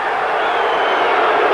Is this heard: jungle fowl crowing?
no